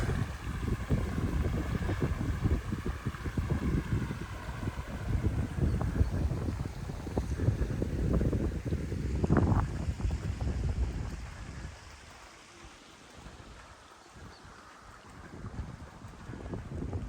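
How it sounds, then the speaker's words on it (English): A continuous rush of running stream water in Dovedale, Peak District, fills the air, loud at first and then easing to a softer flow, with no talking. "Just the sound of the running water."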